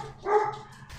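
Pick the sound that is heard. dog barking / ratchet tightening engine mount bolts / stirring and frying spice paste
dog barking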